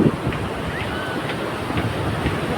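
Sea waves at Puri beach make a steady, dense wash of surf and wind that fills the clip with no clear breaks, and no voices sit on top of it.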